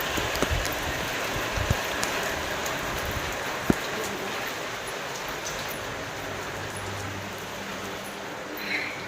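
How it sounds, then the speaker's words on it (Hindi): Steady rain falls in a village during the monsoon, a soft continuous hiss with occasional louder drop impacts and small knocks nearby. "पानी चालू हो गया"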